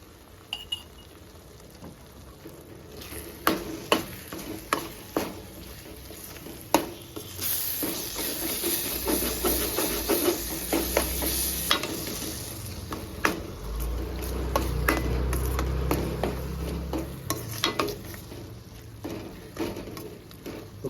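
Garam masala and coconut powder stirred into a cucumber egg curry in a pan, with repeated metal spoon clinks and scrapes against the pan over a soft sizzle, closer and busier toward the end.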